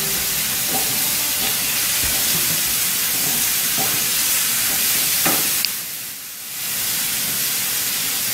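Zucchini noodles cook down in a hot pan for lo mein, giving a continuous close sizzle and hiss that briefly eases and dips around the middle before resuming steadily.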